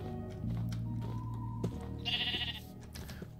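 Sheep bleat in a Minecraft-style video game at dusk, a couple of clear, wavering bleats set over a steady low game soundtrack with no talking.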